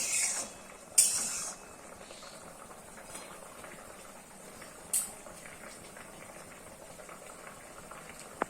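Katla fish curry (kason pora jhol) boils steadily in a pan with a continuous close bubbling hiss, broken by two brief sharp clinks or splashes, and no one speaks.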